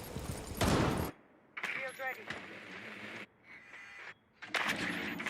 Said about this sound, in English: it gives away his position, and Joystick returning fire immediately